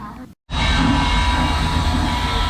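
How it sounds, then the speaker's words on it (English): A model train runs through a miniature model town, giving a steady, close rumble with a faint clickety-clack that continues after a brief dropout at the start. "It's got the train running through it and everything."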